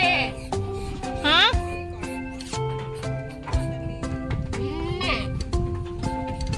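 Several goats bleat repeatedly at a goat farm, some calls close and loud with wavering pitch, heard over people talking and greeting the animals throughout.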